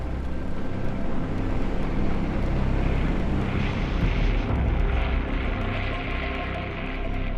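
Heavy WWII bomber engines drone steadily as the Regensburg force lifts off into overcast skies, a loud, continuous broadband roar with a low rumble underneath.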